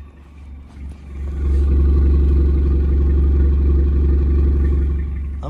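A Volkswagen Polo engine idles steadily up close, with a deep, even low rumble that swells slightly after a second and holds.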